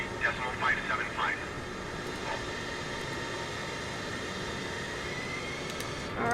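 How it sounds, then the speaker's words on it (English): An Airbus A320 taxis toward the gate after landing in Minneapolis, its steady engine hum and cabin rumble droning along beneath a voice that speaks briefly at the start. "We're taxiing to the gate."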